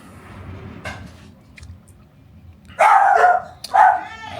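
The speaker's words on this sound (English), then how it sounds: "The dog's like someone's here." A dog barks at the mailbox in a campervan setting, giving a few sharp, loud barks near the end after quieter background sounds and a brief earlier yip.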